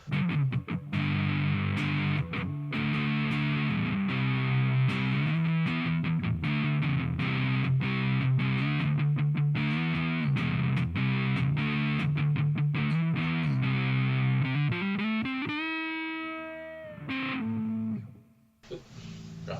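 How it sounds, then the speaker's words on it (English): A distorted Ibanez Artcore AF55 hollowbody electric guitar on the neck pickup plays chugging low chords and riffs through a warm, crunchy Marshall Bassman-type amp, ending with a sliding run and a few sparse notes. "This next one is a Marshall Bassman type amp."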